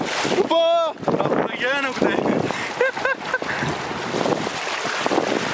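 Fast-flowing water rushes near Noori Waterfall in a constant broad roar with gusts of wind, while someone talks over it.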